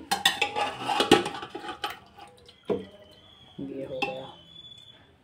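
Pieces of chicken biryani akhni are lifted out with a metal strainer and spread, giving clanks and scrapes of metal against a pot, a wet stir, then a quieter stretch with a faint high tone.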